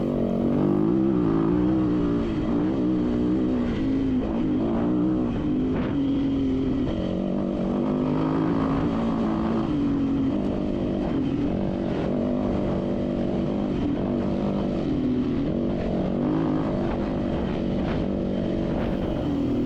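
A dirt bike racing in a desert hare and hound race, its engine droning loud and close with shifting pitch as it revs and eases, steady throughout without talking.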